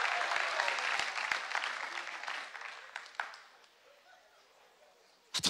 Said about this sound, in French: acclamons le Seigneur pour le multimédia